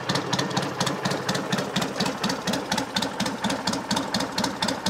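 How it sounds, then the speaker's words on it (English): A 1963 BSA Rocket Gold Star motorcycle engine idling with a steady, even tick-over, a close rhythmic low thudding with a mechanical ticking above it, no talking. "Engine's very sweet. We're looking to see if it's smoking, which it isn't. It's got a nice regular tick over."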